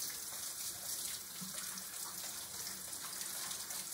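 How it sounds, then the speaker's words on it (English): Running tap water splashing steadily over soapy hands being rinsed at a sink, a continuous close hiss of flowing water with no talking. "Stick your soapy hands back under the water and wash all that soap off."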